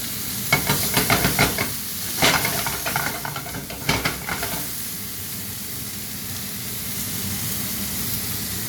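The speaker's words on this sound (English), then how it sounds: "Then what we'll do with the rest of it is braise the steak." A T-bone steak sizzles and hisses in a hot pan as it braises, with a burst of stirring and scraping clatter early on before a steady, even frying hiss takes over.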